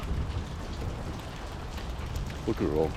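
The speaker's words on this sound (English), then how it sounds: "This is all hail. We just had a whole bunch of it coming down like crazy." Large hail pouring down during an Illinois hailstorm, a dense steady patter and hiss of ice striking surfaces close by, with someone speaking briefly near the end.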